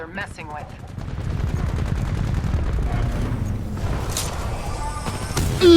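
Rapid automatic gunfire and heavy booms from a Titanfall-style online shooter with pilots and titans rattle almost continuously at high volume, with voices talking over the action.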